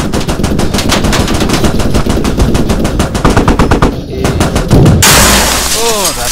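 Rapid, loud machine-gun fire in a video game rattles on in a steady stream of close, evenly spaced shots, pausing briefly before a final heavy burst.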